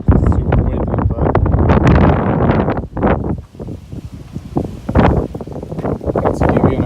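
Gusty outdoor wind roars across the microphone during car detailing, loud and continuous with brief lulls, and a voice may be speaking underneath.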